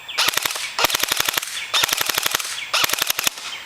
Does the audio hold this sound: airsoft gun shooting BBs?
yes